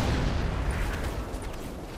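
A dynamite blast in the World War II strategy game Company of Heroes 2 produces a dense, rumbling low boom with crackling debris. The explosion fills the whole moment and stays loud throughout, with no speech over it.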